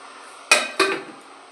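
A metal lid goes onto a cooking pot of vegetarian kohlrabi and soybean curry in two sharp clanks close together, with a brief rattle as it settles.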